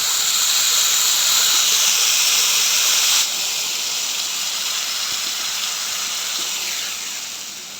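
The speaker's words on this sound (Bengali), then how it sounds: "এবার আমি পরিমাণ মতো জল দিয়ে দেব" Water goes into a hot pot for khichdi, giving a loud, continuous steamy hiss and rush that drops in level partway through and then fades toward the end.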